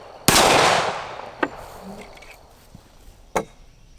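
Gunshots from a Colt MK IV Series 80 CCO 1911 pistol: one loud, sharp report with a long ringing decay, followed by two fainter, shorter cracks spaced well apart, outdoors with no talking.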